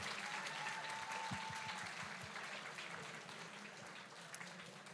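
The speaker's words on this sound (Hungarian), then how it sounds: "Nagy tapsot kérek szépen neki is." An audience at a fantasy expo award ceremony applauds, a continuous wash of clapping that sounds somewhat distant and fairly quiet, easing slightly toward the end.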